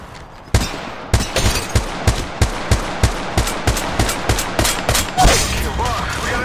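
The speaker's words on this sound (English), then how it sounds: "Opening fire." Rapid gunfire rings out in the mobile shooter game Apex Legends Mobile: about a dozen sharp, evenly spaced shots, loud and close, with a brief game voice line near the end.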